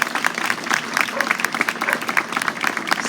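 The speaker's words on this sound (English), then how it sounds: "Let's give them another round of applause." A crowd applauds at an outdoor street renaming ceremony in Brooklyn, with steady, moderately loud clapping that is dense and continuous, mixed with some cheering voices.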